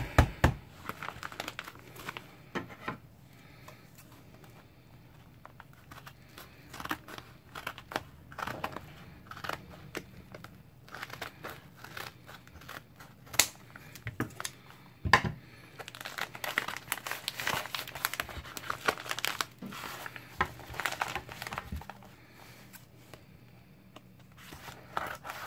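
Crinkling plastic and intermittent snips come from cutting open the packaging of a trading card repack, close and fairly quiet, in scattered bursts with pauses between.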